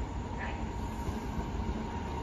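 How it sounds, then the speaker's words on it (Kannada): A train rolls in as a steady, continuous rumble with a broad noisy roar, moderately close and unbroken, with no talk over it. "ಟ್ರೈನ್ ಬರ್ತದೆ"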